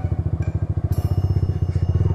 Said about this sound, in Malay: Wah, Syah dah pandai bawa motor lah guys.